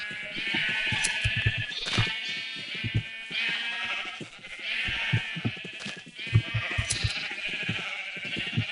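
Crowd of sheep on a large farm in the game Pixel Art Survival bleats repeatedly, overlapping calls arriving in quick, uneven bursts over a constant electronic backdrop.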